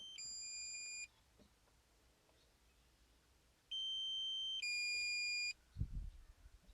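A drone's low battery warning: high electronic beeps in short sustained bursts, one at the start and two back to back later, with a low thump at the end.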